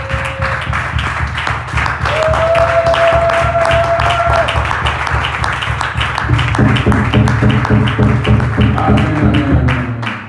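A church congregation applauds in steady, sustained clapping that runs from start to finish, with voices and singing tones rising over it.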